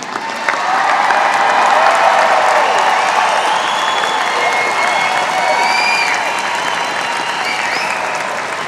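Sustained, loud applause from a graduation ceremony crowd at Rocky Mountain High School honoring the class of 2024, a dense wash of clapping that swells early and holds steady throughout with faint cheering mixed in.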